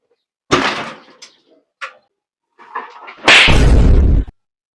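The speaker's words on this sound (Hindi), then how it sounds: "दरवाजा तोड़ दो दया, दरवाजा तोड़ दो" Door being broken down in a comedy skit: a few loud bangs and knocks against a door, ending in one heavy crashing impact, close by with brief pauses in between.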